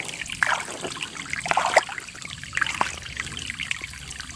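Shallow, clear creek water in a rural province trickling and dribbling softly, with small splashes and gurgles popping over a low steady flow, fairly near and quiet.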